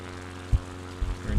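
A propeller plane engine from a flight simulator game, on a bush flight over the Apennines from Bologna to Florence, drones steadily with a low tonal hum throughout, plus a few brief low thumps.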